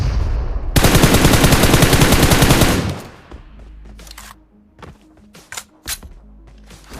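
Loud sustained automatic gunfire bursts for about two seconds in the battle royale game BGMI, followed by scattered single shots and clicks against a quieter background.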